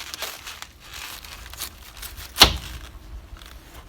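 A knife cuts the stem off a harvested winter cabbage head: soft crinkling leaf rustles, then one crisp, sharp snap of the blade through the stem, close and fairly quiet.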